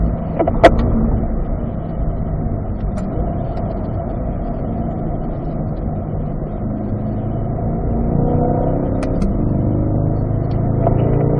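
A car engine drones steadily on a race track, a loud, continuous low rumble that rises slightly toward the end as it accelerates, with no voices.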